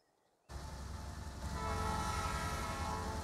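A sugarcane freight train rolls along in the video game Transport Fever 2: a steady, dense rumble kicks in abruptly after a near-silent start and swells slightly louder as it carries on, with no talking.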